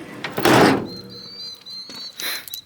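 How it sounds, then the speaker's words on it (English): A broad thunk of a rain-wet 2002 Chevrolet S10 pickup tailgate swinging open around half a second in, followed by faint creaks, a thin high whine and another clunk near the end. "Go ahead and open up the tailgate."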